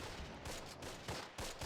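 Rapid bursts of small-arms and machine-gun fire from a World War II tactics game, with several sharp volleys in a steady, clattering rhythm at moderate distance.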